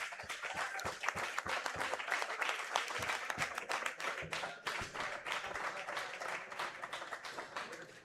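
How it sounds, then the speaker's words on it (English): A crowd at a combat sports fight event applauds steadily, with many hands clapping in a dense, continuous patter that holds throughout. "Give your athletes an applause."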